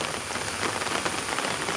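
Steady rain falls on a surface, a dense, even hiss of drops that holds without pause for the whole stretch, with no voices.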